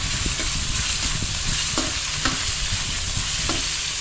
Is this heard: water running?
no